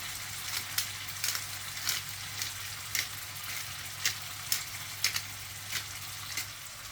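Fish fries in a pan with a low steady hiss under a background hum, broken by sharp crackling pops every half second or so.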